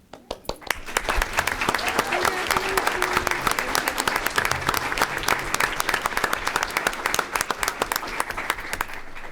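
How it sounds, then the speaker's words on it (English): Loud, dense audience applause for student People's Choice award winners at a school board meeting, starting abruptly and holding steady with sharp individual claps standing out, under faint overlapping voices. "let's have one more round of applause for all of our People's Choice winners"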